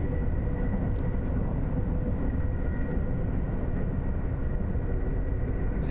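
A Class 802 train in Train Sim World 6 rumbles under emergency braking, a loud, dense low roar of wheels and running gear with a faint steady tone above, continuous and unbroken.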